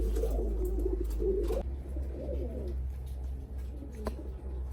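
Low, rolling pigeon coos come in short bursts over a humming background, from a milk-white pair of fancy pigeons, with an occasional faint chirp and no voices.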